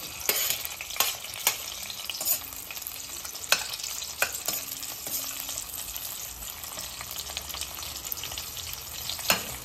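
Sliced onion hits hot oil in a pan for fried rice, giving a continuous loud sizzle punctuated by sharp spatula scrapes and clinks at irregular intervals; nobody speaks.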